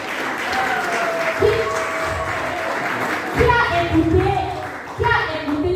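Audience applause at a seminar with testimonials, steady broadband clapping running throughout, with voices and some higher children's chatter mixed in underneath.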